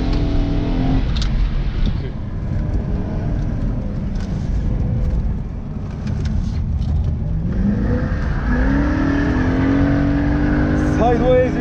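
BMW M3 V8 engine on a race circuit, droning loudly and steadily throughout, with revs rising toward the end. A voice speaks over the engine noise.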